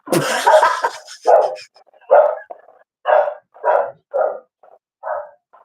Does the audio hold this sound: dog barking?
yes